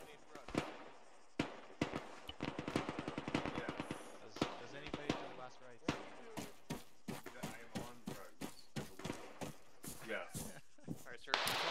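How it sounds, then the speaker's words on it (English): Rapid series of sharp, loud gunshots in a suspect pursuit during a Malden Five-0 police operation in Arma, single and clustered cracks ringing out close by, with radio chatter from players in between. "Suspect out. Shots fired."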